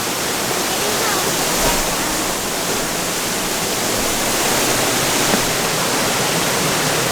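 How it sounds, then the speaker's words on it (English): Big rainforest waterfall roaring steadily, a dense, unbroken wash of falling water up close and loud, filling the whole stretch without pause. "Look at this big waterfall."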